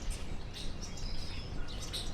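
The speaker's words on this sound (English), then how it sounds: "A lot of birds extremely active in the morning here." Birds in early-morning New York City, between Woodside and Flushing Meadows, giving faint scattered chirps and tweets over a steady low rumble of city background noise.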